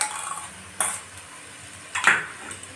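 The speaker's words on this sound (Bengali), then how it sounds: "এতে আমি ফেটানো টক দইটা মিশিয়ে দিচ্ছি।" Whisked sour yogurt stirred into a spice masala in a pan: a few metal spoon scrapes and clinks against the pan over a soft background sizzle, close and fairly loud, no talk.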